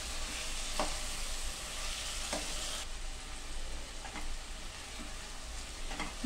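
Pepper chicken frying in a pan as it is stirred, a steady loud sizzle with occasional scraping clicks of the spoon against the pan, with no talking.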